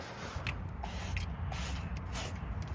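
Detailing spray misted into the cracks of a very dirty car interior, a few soft hissing bursts at close range over a steady low background hum, no talking.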